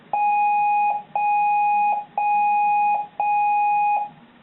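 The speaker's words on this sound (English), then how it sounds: "This is basically just like different ringtones, like buzzer ringtones." An electronic buzzer alarm ringtone from a Cobalt Speechmaster talking calendar clock repeating four steady beeps in an even rhythm, each a sustained tone with short gaps between, clear and up close.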